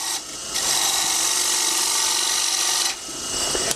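A roughing gouge taking a push cut on a spinning wood lathe, a loud continuous scraping rasp as the tool bites the wood, broken by short pauses between passes.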